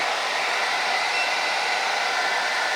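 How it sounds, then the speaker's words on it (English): Hair dryer on its high setting, drawing about 1280 watts from a Ugreen PowerRoam 1200 portable power station, gives a steady, close, loud blowing whoosh with an even motor whine throughout and no pauses. "That's a lot more air and heat than on low."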